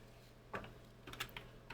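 Short burst of typing on a computer keyboard, a handful of sharp clicks in quick succession, close and faint over a steady low hum.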